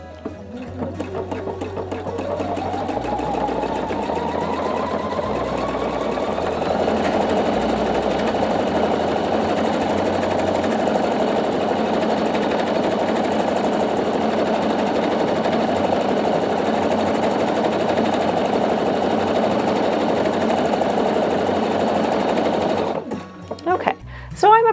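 Pfaff Quilt Expression 720 sewing machine stitching steadily for a long stretch, its motor hum rising in speed then holding an even drone, close and clear, ending with a brief clatter as it stops.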